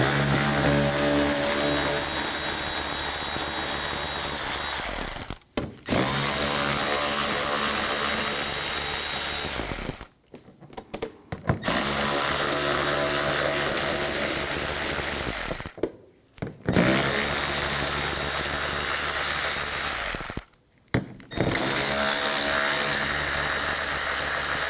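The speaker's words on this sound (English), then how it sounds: "On the inner fender well, we're going to take these screws out. Use a 7mm socket." Power tool spinning a 7mm socket to remove inner fender well screws on a 2013-2019 Ford Escape 2.0L, loud continuous whirring and ratcheting in four long bursts separated by brief pauses, no talking.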